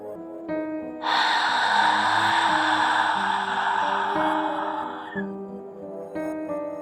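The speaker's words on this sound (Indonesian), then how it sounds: "Helaan nafas itu terdengar keras dan gelisah" A ghost in a horror story breathes loudly and restlessly, one long heavy gasping breath held for several seconds over a low, eerie background tone.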